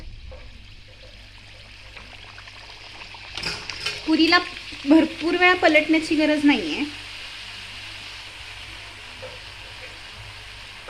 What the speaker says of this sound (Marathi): या तेलात पुरी जी आहे ती आपण तळून घेऊयात